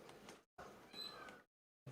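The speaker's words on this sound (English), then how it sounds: "Wow, that was a noisy cat." A noisy cat lets out two loud, drawn-out meows close by, separated by a short silence, with the start of another cry cut off at the end.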